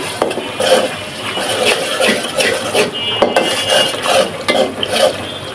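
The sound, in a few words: stirring and frying spices in a pan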